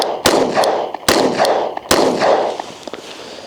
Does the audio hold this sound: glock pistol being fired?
yes